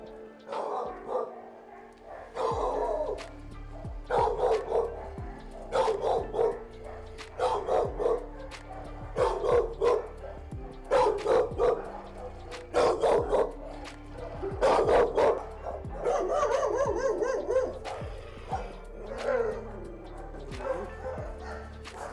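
A dog barks repeatedly in short bursts, regular and fairly close, with some whimpering yips in between, and a voice speaks faintly at times.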